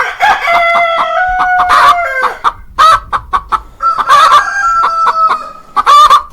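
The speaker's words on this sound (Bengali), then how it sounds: "শিয়ালকে দেখে সব মুরগি একসাথে চিৎকার দিতে শুরু করলো।" Cartoon chickens squawk and cluck in loud alarm together, bursts of crowing-like calls and honking squawks overlapping in a frantic, continuous clamor with no talking.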